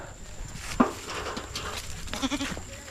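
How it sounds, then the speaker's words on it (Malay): Goats bleat in a garden, a few short, close calls spread across a noisy outdoor background, with a person's voice faintly present. "Kambing pun sibuk lah kat dia."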